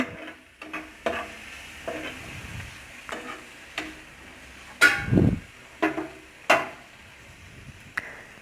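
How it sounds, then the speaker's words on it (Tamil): Prawns with turmeric and cumin powder sauté in a pan, a faint sizzle beneath irregular sharp scrapes and knocks of a ladle against the pan, some strokes louder than others, close up with no talking. "ஜீரகத்தூள் 1/2 கரண்டி போட்டுக்குங்க. நல்லா வதக்குங்க."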